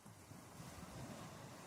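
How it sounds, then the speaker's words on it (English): Waves crash steadily on a windswept shore under a strong breeze, a continuous broadband wash of surf and wind roar with no voices present. "Seabirds, strong breeze, and crashing waves."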